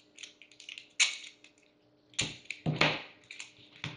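Scissors snipping through shiny green tape, a few sharp crisp cuts and crinkles close up, with short pauses between them and no speech.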